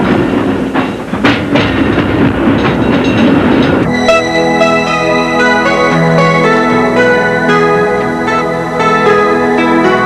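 San Francisco cable car climbing toward Nob Hill, a loud continuous rumble and rattle of the tram on its rails, with a steady metallic ringing drone taking over after a few seconds, no voices.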